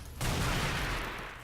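Gunfire from a weapon in Unreal Tournament, a sudden loud burst that kicks in sharply and sustains as a dense rattling blast, tailing off slightly at the end.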